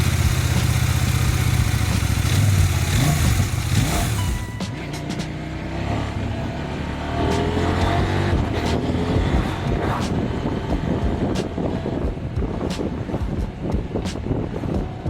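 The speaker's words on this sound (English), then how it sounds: "Finally, it's the exhaust sound." A 2025 CFMOTO 800MT-X motorcycle with its stock exhaust, ridden on the road: a mellow, steady engine drone under heavy wind rush on the microphone, with a shift in tone around a third of the way through.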